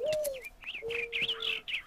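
Birds in the Minecraft video game chirp and coo close by, with whistled tones and quick tweets layered over each other for about two seconds, and no voices.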